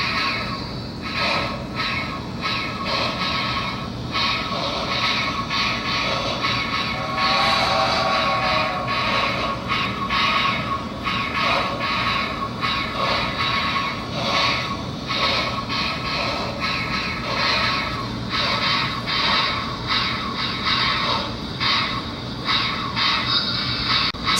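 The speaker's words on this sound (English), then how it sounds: "Here's what the chuffing sounds like." An HO scale Intermountain cab forward model locomotive chuffs steadily, a continuous rhythmic hiss with quick repeated puffs running evenly throughout, fairly loud and close with no talking.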